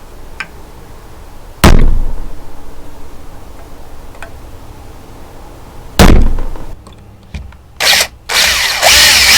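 Hammer blows driving a Ryobi #1 spiral screw extractor into a vehicle hub: two sharp, loud metallic strikes several seconds apart, then a quick cluster of further impacts and scraping near the end.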